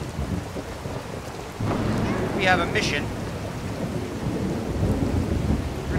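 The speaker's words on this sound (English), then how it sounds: "It's raining." Rain and rolling thunder in the Skyrim game world, a steady wash of rainfall with a low rumble building partway through, while a voice speaks briefly over it.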